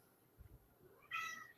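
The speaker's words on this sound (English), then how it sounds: "sorry, my cat." A house cat gives a single short, close meow near the end, preceded by a couple of faint low bumps, in an otherwise quiet room with no talking.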